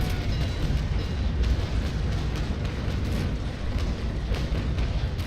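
Cannon broadsides from sailing warships in the Naval Action fleet battle game, where a frigate engages: a dense, continuous rumble punctuated by repeated heavy booms, loud and close, with no pause throughout.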